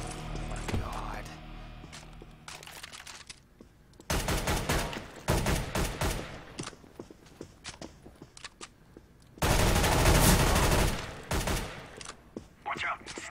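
Bursts of automatic gunfire in Counter-Strike: Global Offensive on the map Office, loud rapid volleys that come and go across the span, with quieter scattered shots and footsteps between them.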